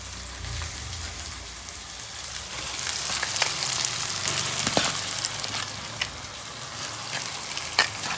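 Mutton liver frying in a pan, a dense, rain-like crackling sizzle that swells in the middle and carries a few spoon scrapes and clinks, close and continuous with no voices.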